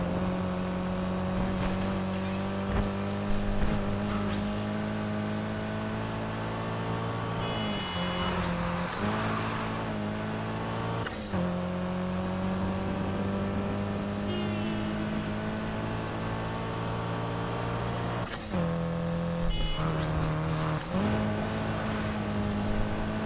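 Race car engine screaming at full throttle in the Need for Speed Heat video game, a sustained loud harmonic drone that dips briefly with gear shifts and climbs back up, steady and close throughout.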